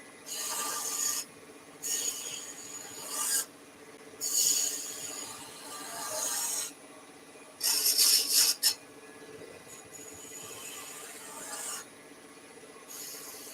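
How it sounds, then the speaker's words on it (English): A spindle gouge cuts a reverse curve into wood spinning on a lathe while turning spinning tops, giving repeated bursts of hissing, rasping shavings with short pauses between passes, close and fairly loud over a steady motor drone. "now we're going to go in with the spindle gouge just to do a reverse"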